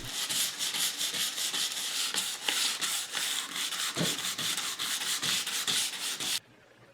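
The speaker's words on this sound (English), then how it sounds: "you get to have the fun now of sanding through the polyurethane" Rhythmic back-and-forth sanding strokes rub through polyurethane finish on a wooden tool storage cabinet panel, close and steady, then stopping abruptly near the end.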